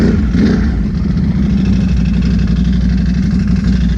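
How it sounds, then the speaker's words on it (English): A Can-Am side-by-side engine idles close by, a loud, steady low rumble with an even throbbing pulse and no talk over it. "Bike's sounding good. She's working good."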